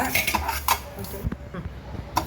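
Spices dry roasted in a pan, with utensil clinks and light scraping against metal as they are stirred, close and fairly quiet, with a few irregular knocks.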